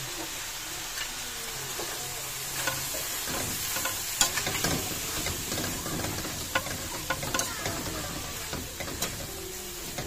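Bean sprout vegetables for lumpia with corned beef stirred and sizzling in a pan, a steady frying hiss with irregular scraping and clinking of the utensil against the pan throughout.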